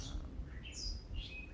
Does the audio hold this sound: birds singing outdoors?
yes